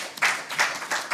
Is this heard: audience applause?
yes